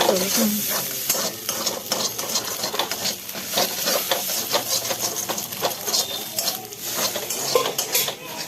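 Egg and chow mein fry in a pan at home, with steady loud sizzling and repeated scraping and clinking of a utensil stirring against the metal throughout.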